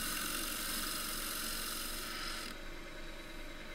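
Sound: 3/8 bowl gouge cutting wood rim on lathe

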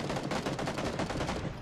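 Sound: gunfire at a burning UAZ in PUBG video game

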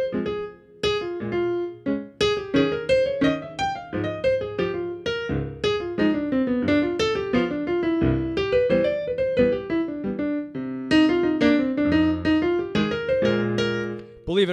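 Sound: jazz piano solo over a jazz standard using chord tones and scales

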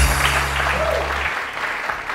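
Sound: audience applause

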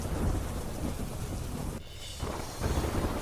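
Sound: heavy rain

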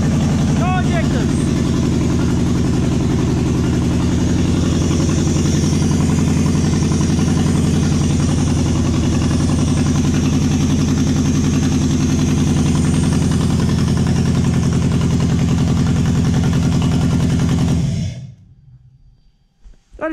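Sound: Toyota 1UZ-FE V8 engine idling on two cylinders

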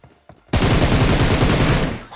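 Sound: gunfire in a shooting video game

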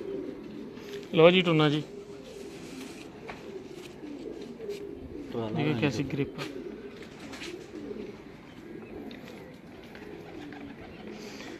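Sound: pigeons cooing

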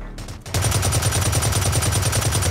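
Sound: gunfire in video game Blacklight Retribution

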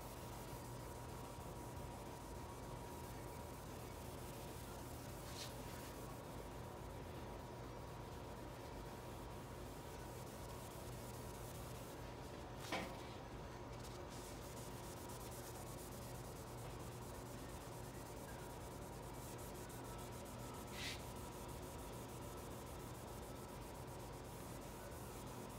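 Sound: wet sanding clear coat on speaker enclosure, 3000 grit

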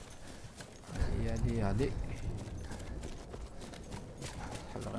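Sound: horse hooves galloping in video game Battlefield 1

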